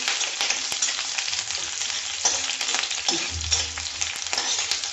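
Curry leaves and green chillies fry in hot oil for a fish curry, a dense crackling sizzle with occasional stirring knocks, close and steady, no one speaking.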